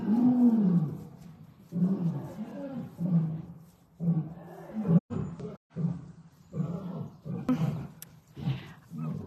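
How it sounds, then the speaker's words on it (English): Deep, rumbling big-cat roars come in a series of long, heaving calls, fairly close, with brief gaps between them. "I'm hearing some roaring."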